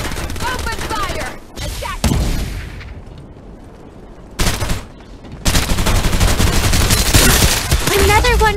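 Heavy gunfire in a video game deathmatch, dense volleys of shots in loud bursts separated by short quieter gaps, with in-game voice callouts over the fire.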